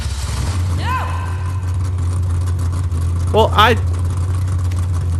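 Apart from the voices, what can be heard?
upgraded car engine idling in Mad Max video game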